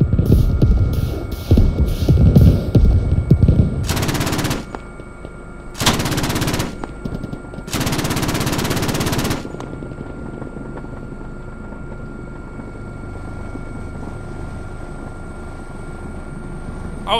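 A Huey gunship helicopter in the game Squad drones with a steady rotor throb while its machine guns rip off several loud, sustained bursts, followed by the helicopter hum alone.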